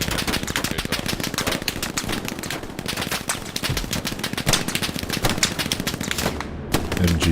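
Sustained machine gun fire in a military video game, a dense rapid rattle of shots running continuously and loudly with no pauses.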